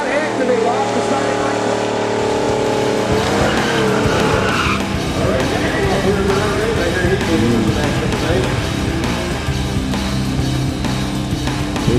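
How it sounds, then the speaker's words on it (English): A drag racing car does a tire-smoking burnout at Great Lakes Dragaway, with a loud continuous engine roar and tire squeal that shift in pitch, heard close and dense with a commentator's voice over it. "Big John Force burnout coming out in the right lane"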